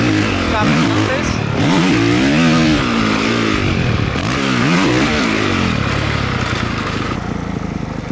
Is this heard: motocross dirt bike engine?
yes